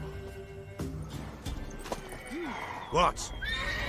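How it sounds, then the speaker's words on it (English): A horse in The Witcher 3 gives a clear rising whinny near the three-second mark, with faint hoof clatter and game ambience around it and a brief spoken word just before. "Worthy of the best horse. The mare is yours."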